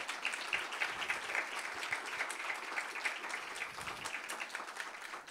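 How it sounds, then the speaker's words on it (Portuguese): Applause for the authors at a poetry book event: a room of people clapping steadily and fairly softly for several seconds, dense overlapping hand claps with no one talking. "Eu gostaria de pedir uma salva de palmas para as autoras."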